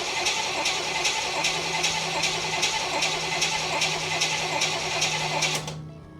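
A 1965 El Camino's engine cranks on the starter after fuel system work, a fast, even, rhythmic churning that runs loud and close for several seconds before cutting off abruptly.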